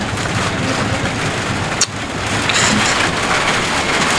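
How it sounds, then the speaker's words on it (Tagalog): Steady rain falls outdoors as a dense, even hiss of drops across the whole stretch, with one short sharp knock partway through and no voices. "Ayan na may ulan natin."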